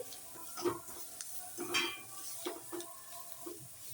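Roasted peanuts go into a pan on a low gas flame: a soft sizzle sits under a series of scraping, clattering stirs that come in irregular bursts.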